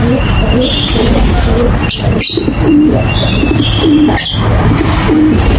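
Soft racing pigeon cooing repeats several times over steady outdoor background noise, with brief rustling between calls.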